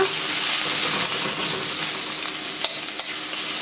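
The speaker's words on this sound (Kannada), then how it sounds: "ಈರುಳ್ಳಿ ಇದನ್ನು ಸ್ವಲ್ಪ ಹುರಿಬೇಕು." Onion with mustard seeds and broken red chillies frying in a pan for Karnataka mixed greens bassaru, a steady close sizzle with occasional sharper crackles and stirring clicks, no talking.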